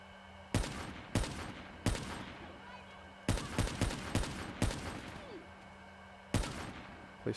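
Video game gunfire from Call of Duty Black Ops 3, sharp loud shots arriving in irregular bursts and single cracks across the clip, with a steady low hum beneath and no talking.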